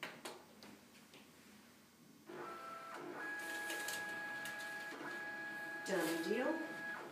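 A document scanner runs a light paper receipt through its feed, with a steady mechanical hum and whirring tones that rise after a soft click, closing with a louder motor sweep, while a person speaks quietly nearby.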